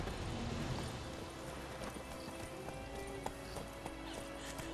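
Horse hooves gallop in The Witcher 3: Wild Hunt, a steady rhythmic clip-clop running throughout beneath dense game ambience and music, with no talking.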